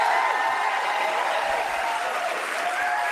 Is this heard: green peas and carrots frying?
no